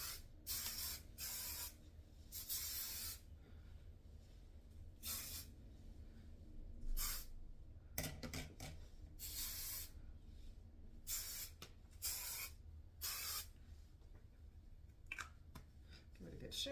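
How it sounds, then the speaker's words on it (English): Chi Helmet Head Extra Firm Hairspray, hold level 5, spritzed onto blow-dried hair in a braid-out style: a series of loud, close aerosol bursts, some short and some held for a second or more, separated by quieter pauses. "going in with my Chi Helmet Head Extra Firm Hairspray, hold level 5"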